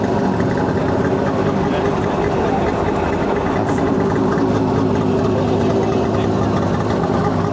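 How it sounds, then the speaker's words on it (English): A small two-stroke engine in a Goggomobil microcar van idles steadily at a microcar rally, a buzzy, rattling putter that stays constant and close throughout. "Here it's little two-stroke engine purring away."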